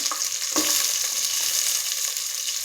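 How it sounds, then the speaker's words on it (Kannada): Sliced onions hit hot tempering oil for vegetable sambar, giving a sharp burst of sizzle that settles into a steady, close frying hiss while being stirred. "ಒಗ್ಗರಣೆನ ಜಾಸ್ತಿ ಫ್ರೈ ಮಾಡೋಕ್ಕೆ ಬಿಡಬೇಡಿ"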